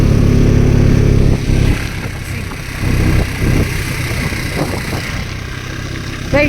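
Motorcycle engine running steadily while riding along a snowy road in Kashmir, a loud continuous low rumble with slight surges in the drone and wind noise up close.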